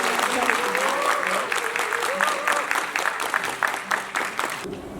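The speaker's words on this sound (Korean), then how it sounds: "네, 큰 박수로" Audience applauding with sustained clapping at a book concert, loud and continuous for several seconds, with a voice over a PA heard over the clapping.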